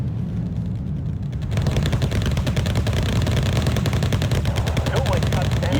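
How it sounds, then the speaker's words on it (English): Autocannon fire in the Wargame: Red Dragon video game, rapid continuous bursts of loud repeated shots that start abruptly and keep rattling close by. "that sounds like an autocannon"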